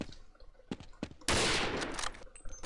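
Assault rifle fire in Counter-Strike: a few scattered shots, then a loud sustained burst of automatic gunfire lasting over a second.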